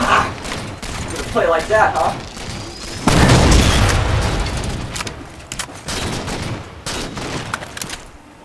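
Gunfire from a Halo 4 multiplayer cops-and-robbers match: bursts of shots and a heavy boom, with excited player voices talking over the fighting.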